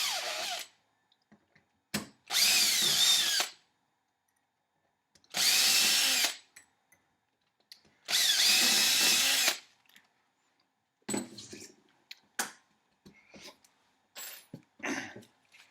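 A handheld power drill bores 1/8 inch guitar string holes through a wooden body, with three loud, steady whirring bursts of about a second each, then scattered clicks and handling noises, close by.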